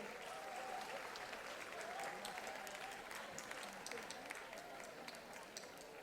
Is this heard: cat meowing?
no